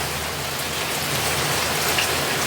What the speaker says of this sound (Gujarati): જો કેવો ધોધમાર આવે છે વરસાદ